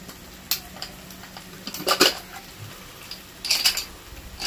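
Banana flower goes into a pan of cooked-down vegetarian masala and is stirred, giving a few scattered metallic clinks and scrapes of a spoon against the pan, close and intermittent over a quiet background.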